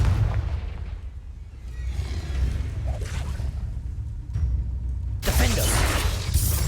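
Confringo fire spells in Hogwarts Legacy burst in a string of booming explosions over a low rumbling bed, with a sharp, bright blast near the end.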